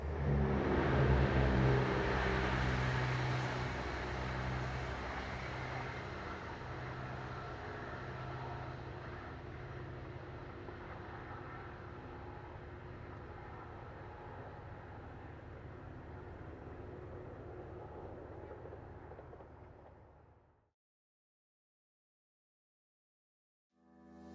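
Class 170 diesel multiple unit 170-425 pulls away northbound on the Dundee to Edinburgh main line, a loud, steady engine drone with rising harmonic tones that slowly recedes and fades out to silence after about twenty seconds.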